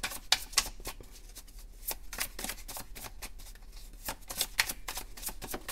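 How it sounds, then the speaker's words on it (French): Tarot cards riffle and snap in a steady run of close, crisp shuffles, with sharp flicks as cards are drawn, quiet and with no talk. "je vais prendre 2 cartes du ro"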